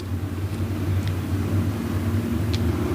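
A pack of IMCA race cars rumbles around a dirt oval toward the green flag, a steady low engine drone from a distance with no talking.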